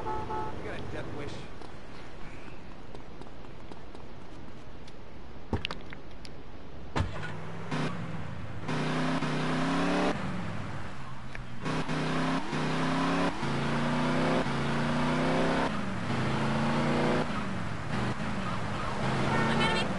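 A car drives in Grand Theft Auto: Vice City, its engine droning and revving steadily with a few sharp bumps and cuts, while people talk over the game throughout.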